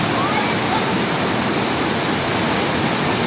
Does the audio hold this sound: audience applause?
no